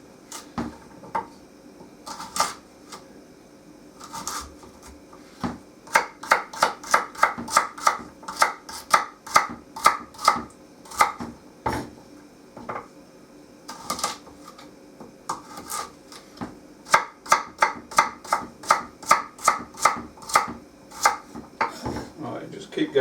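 A kitchen knife chops root vegetables for a beef and vegetable stew on a wooden cutting board, with bursts of rapid, rhythmic close knocks separated by short pauses.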